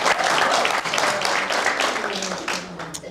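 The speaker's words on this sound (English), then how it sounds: "Give her a round of applause." Warm, sustained applause from a theatre audience at a conversation event with a singer at the Saint Patrick Centre, a dense wash of many hands clapping that holds steady then slowly eases.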